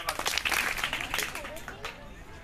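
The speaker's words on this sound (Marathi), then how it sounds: "टाळ्या वाजवा पुन्हा" Children clap their hands together in a school classroom during a health camp, a quick burst of clapping mixed with chatter and crowd noise, lasting only a couple of seconds.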